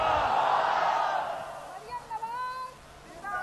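A large crowd at a PMLN rally in Haroonabad roars out a Nawaz Sharif chant in one loud swell that fades, followed by someone speaking over the fading crowd noise.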